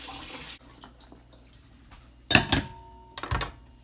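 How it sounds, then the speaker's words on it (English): Tap water splashes in two short bursts as vegetables are rinsed under a running kitchen faucet, with quiet gaps between the pours. "I'm just going to wash my vegetables."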